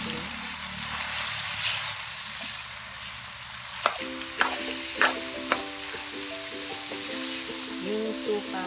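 Dinuguan (pork blood stew) with bamboo shoots cooks in a pot, with a steady sizzle and bubbling followed by a few sharp utensil knocks and scrapes against the pot, close and moderately loud.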